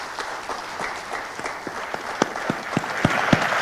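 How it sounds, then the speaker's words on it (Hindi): An audience claps in steady applause, individual sharp claps standing out and building louder toward the end. "जोरदार तालियों के साथ एक बार प्लीज"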